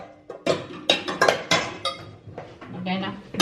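A metal cooking pot clanks and scrapes as it is handled while vanilla is added for a caramel dessert, with several sharp, close clatters and clinks in quick, irregular succession.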